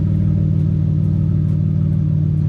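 BMW E46 engine with a very large exhaust idling and revving, a deep steady drone with a thick low rumble holding loud and continuous throughout, no voices over it.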